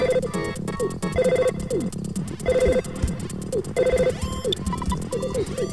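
Telephone ringing in the Earthbound video game, a loud, chiptune-style electronic ring sounding in repeated rhythmic bursts alongside busy game music.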